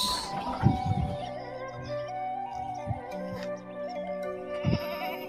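Boer crossbreed goats bleating on a farm, several wavering nasal calls at moderate distance over a steady background hum, with a few brief louder bleats standing out.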